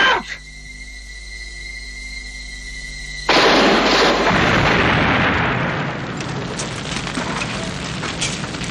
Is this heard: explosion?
yes